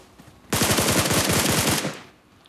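Sniper fire and a rapid burst of gunshots on the Erangel map in the PUBG video game, loud and close, a dense stream of evenly spaced shots lasting over a second before dropping back to quiet.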